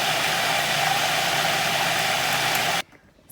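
A food processor spins garlic mustard pesto in one steady, loud whirring run that holds for close to three seconds and then cuts off abruptly into near silence.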